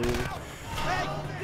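Gunfire from the stealth shooter Splinter Cell: Conviction, a dense burst of game shots running through the whole short moment, loud and mixed with other game sounds.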